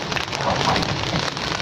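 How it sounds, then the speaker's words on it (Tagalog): Heavy rain pours continuously onto surfaces nearby, a loud dense hiss with scattered drop impacts and no voices. "Magdamag na pong umuulan yan guys"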